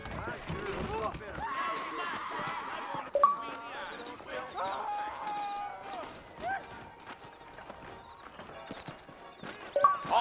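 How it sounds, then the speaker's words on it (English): Horses trotting in the video game Red Dead Redemption, a soft rhythmic clip-clop of hooves beneath continuous character dialogue and background score, with an occasional louder thud. "I got the horses saddled up and ready out front."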